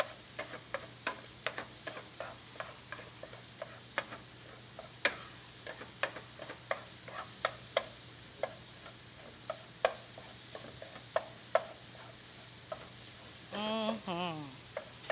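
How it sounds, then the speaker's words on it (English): Beef patty filling sizzling in a hot pan as a utensil stirs and breaks it up, with sharp scraping taps at irregular intervals over a steady fry; a brief clatter near the end. "Now's the time to get in here and just start breaking it up. Make sure you mix it into all of the flavor here."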